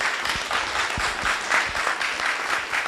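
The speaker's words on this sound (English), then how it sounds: "I would like you all to give a round of applause to our esteemed panel." Audience applause for a panel at a health equity and environmental justice event: dense, steady clapping from many hands, fairly close, holding evenly for about three seconds.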